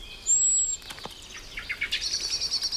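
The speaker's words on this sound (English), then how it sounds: "This blackbird has spotted our Genet and sounds the alarm." A common blackbird gives its alarm call in woodland trees, a rapid run of sharp chattering notes that builds toward the end, with a thin high whistle early on and no voices.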